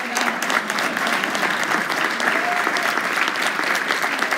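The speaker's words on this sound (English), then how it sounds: "Yeah, you can clap now" Sustained applause from a large convention audience at an equality event, steady dense clapping that stays loud and even across the whole stretch with no pauses.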